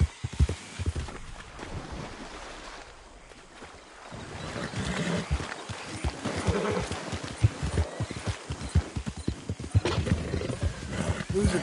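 A horse close by, with hooves clip-clopping in an uneven rhythm and a neigh among the movement, while a person talks over it.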